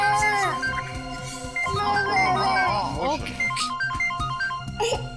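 A phone ringtone sounds in a Hindi police crime drama scene: a short stepped electronic melody that rises over background music and dramatic scoring, playing steadily near the end.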